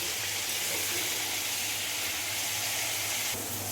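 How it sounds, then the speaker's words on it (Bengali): Chicken pieces frying lightly in hot oil for butter chicken give a steady, close sizzling hiss that runs without a break, with no voices. "এবার চিকেনটাকে দিয়ে একটু হালকা করে ভেজে নেবো চিকেনটাকে"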